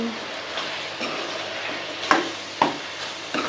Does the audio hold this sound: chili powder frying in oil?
yes